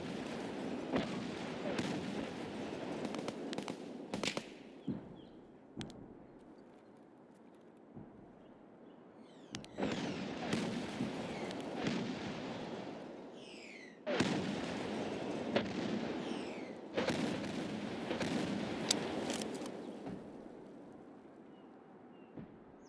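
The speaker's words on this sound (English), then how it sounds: "But I hear somebody shooting over here." Distant gunshots echo across an Escape From Tarkov map, several scattered bursts and single cracks rolling out with long reverberant tails, heard alone without talk.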